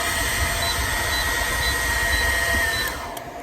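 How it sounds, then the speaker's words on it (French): A hair dryer runs on a solar-panel and battery home power system, a steady loud whooshing hum with a faint whine that holds for several seconds, then eases off near the end. "on va brancher un coup de sèche-cheveux alors qu'on a 7 kW"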